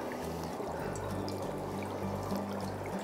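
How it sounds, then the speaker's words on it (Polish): Oil poured from a small vessel into containers of water in a preschool experiment, a soft continuous trickle and glug running steadily near and alone for about three seconds. "Do każdego z pojemniczka wlewamy trochę oleju."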